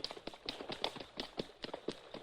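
Horse hooves clip-clop in a quick, uneven rhythm of sharp taps, faint and close, as riders near the Rio Grande, with no talk over them.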